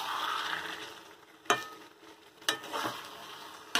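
Onion, tomato, ginger-garlic paste and chilli powders frying in a pan with a steady hiss, broken by three sharp spoon knocks against the pan.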